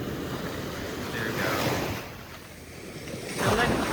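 Waves wash ashore at Duli Beach in El Nido, a continuous surf roar with wind buffeting the microphone, swelling twice as the water surges in.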